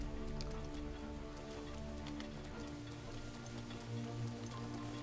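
Steady rain patters on the ground in The Legend of Zelda: Breath of the Wild, a dense, even hiss of raindrops heard alone with low game music beneath.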